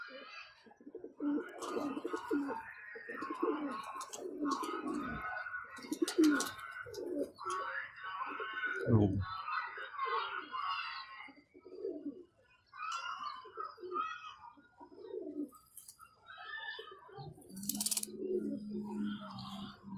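Teddy pigeons coo in repeated soft, throaty phrases close by, with occasional wing flutters and a brief chirp.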